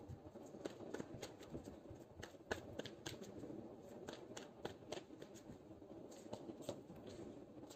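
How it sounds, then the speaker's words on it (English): Tarot cards being shuffled and pulled, a run of quick papery flicks and light taps at an uneven rhythm, faint and close with no voices. "So let's pull some cards from universe where this relationship is headed on."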